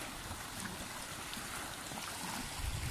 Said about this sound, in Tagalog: tahimik at maririnig mo lang yung pagaspas ng alon.